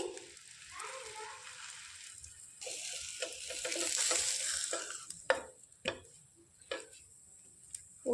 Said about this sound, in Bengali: খুব অল্প তেলেই কিন্তু এই পরোটাগুলো ভাজা হয়ে যাবে